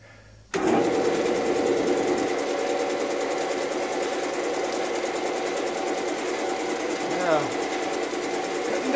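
A Grizzly G0602 metal lathe turns axle steel with carbide inserts, giving a steady, loud mechanical hum and whir that starts abruptly and runs on evenly, with a brief rising squeal of cutting near the end.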